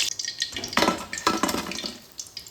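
Khaja sweets deep frying in hot oil, giving a loud, bubbling sizzle in uneven bursts with a few clinks of a utensil, close up.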